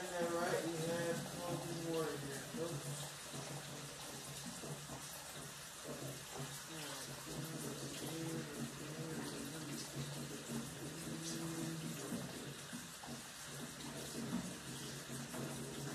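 Hot water runs steadily from a dispensing machine into a measuring cup in a kitchen, a continuous rushing pour under people talking.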